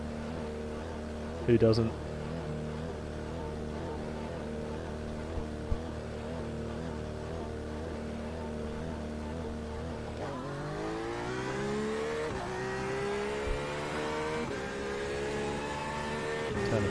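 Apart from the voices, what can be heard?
car doing burnouts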